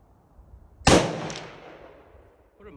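A single sharp blast from a .338-06 Improved rifle fitted with a muzzle brake at an outdoor shooting range, loud and close, with a long rolling echo that fades over a couple of seconds.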